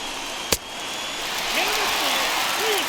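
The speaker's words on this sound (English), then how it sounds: "listen to this crowd now. They are really into this." A stadium crowd in the MLB The Show 21 baseball video game during a Rangers–Yankees late-inning rally, a steady roar that swells and holds, with a sharp crack early on and a commentator talking over it.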